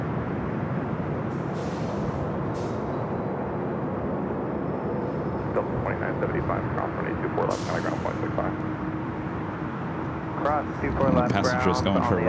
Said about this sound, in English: Passengers going for a ride on that A319